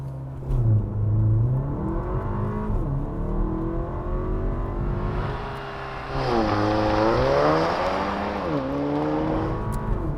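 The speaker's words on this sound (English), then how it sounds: "The updated 2022 Porsche Macan. With unofficial launch control." A 2022 Porsche Macan with a 2-liter four-cylinder turbo launching hard, the engine surging through rising revs with gear changes, loud and close, with no voices.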